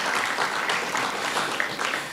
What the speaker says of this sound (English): So please give him one more round of applause